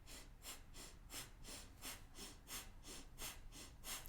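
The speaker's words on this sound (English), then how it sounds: "The breath of fire sounds like a..." Breath of fire, the rapid Kundalini yoga breathing, comes as quick forceful puffs about two per second, an even rhythm of soft, close exhalations with no talking.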